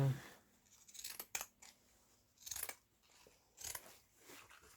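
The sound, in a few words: cutting a piece of burlap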